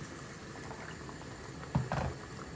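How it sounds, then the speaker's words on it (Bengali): A pot of pabda fish curry with orange peel bubbles softly and steadily at low volume, with a brief louder splutter partway through, as it comes to a boil. "ঝোলের মধ্যে একটু বলক হোক"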